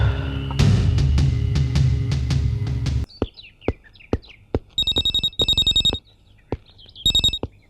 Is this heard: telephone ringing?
yes